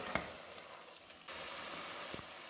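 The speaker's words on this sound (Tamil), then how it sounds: "இதே எண்ணெயில் வதக்கிடலாங்க" Ingredients for mutton biryani sizzle as they sauté in hot oil, a soft, steady frying hiss that grows fuller halfway through, with a few faint clicks of stirring.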